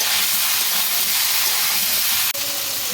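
Raw mango pieces stirred in hot oil for a pickle give a steady, loud hiss and sizzle that runs unbroken throughout, with one brief dip near the end.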